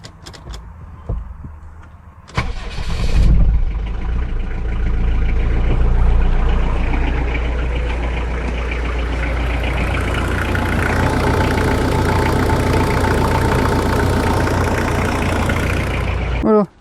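A Jeep Cherokee 2.5 TD diesel cranks briefly after a fuel filter change, catches, and settles into a loud, steady, slightly knocking idle that runs on close by for over ten seconds.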